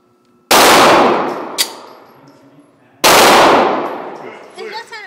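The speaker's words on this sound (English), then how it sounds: "You want me to shoot again?" Two loud, close firearm gunshots at a shooting practice range, a few seconds apart, each followed by a long, fading metallic ring and echo, with a faint clank between them.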